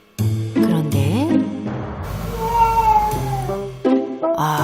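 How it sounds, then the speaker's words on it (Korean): A house cat meows loudly and repeatedly at night toward sleeping owners, with several drawn-out, rising and falling cries. Each call stands out close and clear against a quiet indoor room. "잠든 집사들을 향해 하염없이 우는 녀석"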